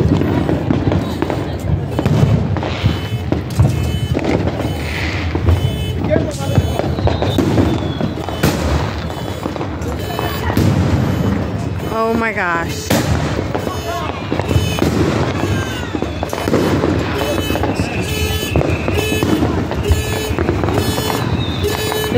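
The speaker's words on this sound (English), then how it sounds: "We're doing the fireworks." Backyard 4th of July fireworks, a rapid run of loud, close crackling bursts and sharp bangs with a whistling rocket in the middle, while people talk and exclaim over the noise.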